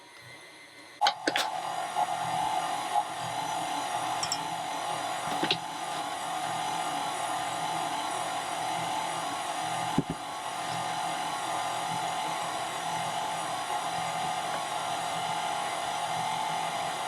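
A KitchenAid stand mixer runs with a steady, faint motor whine and hum, broken by a few sharp clicks and knocks early on.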